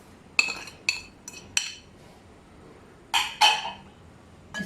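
A spoon clinks sharply against a bowl while mashed potato is mixed with mint, coriander, green chilli, onion and dry spices: four quick taps, a pause, then two heavier scraping knocks, close by and without talk.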